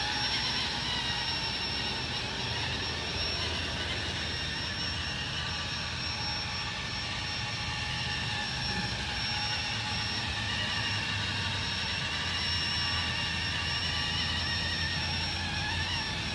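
A Blade 230s RC helicopter rotor spins up to speed, giving a steady, continuous high-pitched whine and whirr with a sustained tone, close and constant throughout.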